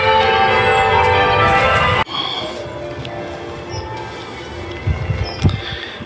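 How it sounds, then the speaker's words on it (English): Church bells of Tewkesbury Abbey ring in the first two seconds as a dense, loud peal, then cut to a quieter outdoor scene with distant chimes and occasional brief knocks. "Can you hear the bells of Tewkesbury Abbey?"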